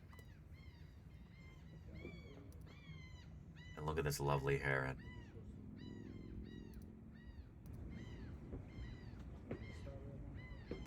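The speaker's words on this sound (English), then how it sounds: "you can hear the lovely laughing gulls in the background" Laughing gulls calling in the background, a rapid series of repeated nasal cries at a distance, faint under a person talking, with a brief louder burst of noise near the middle.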